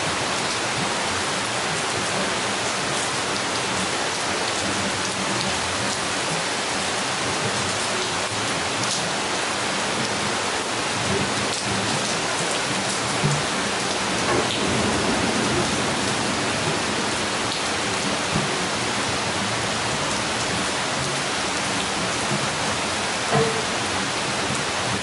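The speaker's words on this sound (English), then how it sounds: "That is some serious rain." Heavy rain falls steadily in Tokyo, a dense continuous wash of drops on surfaces with a few louder splashes, loud and close throughout with no talk.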